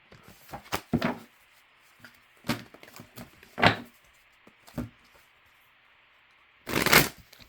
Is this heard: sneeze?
no